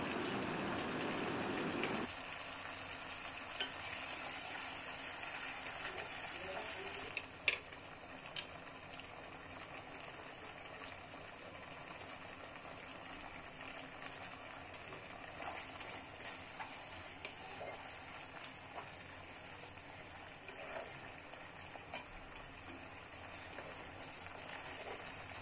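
Soy, tomato and red chilli sauces are stirred into fried vegetables for chilli paneer, a faint steady sizzle with occasional soft scrapes and clicks of a spoon in the pan.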